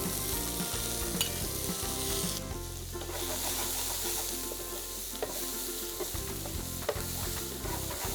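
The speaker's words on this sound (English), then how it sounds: "Just look at that, the sizzling vegetables." Chilies, green bell pepper and yellow bell pepper sizzle and crackle steadily in a hot pan, with occasional stirring clatter, loud and close throughout.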